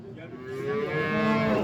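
A large, tall cow moos at a Yangiqo'rg'on livestock market, giving one long, close bellow that rises and swells in loudness over about a second and a half.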